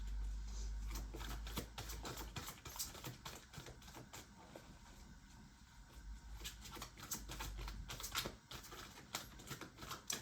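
Cards being riffled and shuffled repeatedly in quick, papery bursts, close up, with soft taps and handling noises between shuffles.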